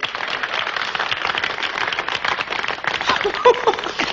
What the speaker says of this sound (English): How can they clap for that crook?